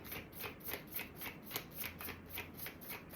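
Deck of astrology cards shuffled for an Aries reading, a quick riffling patter of regular bursts about four per second, close and fairly loud, with no voice over it.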